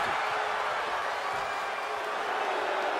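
A wrestling arena crowd in the video game WWE 2K23 roars and cheers in a steady, continuous wash of noise that holds the same level throughout without distinct peaks.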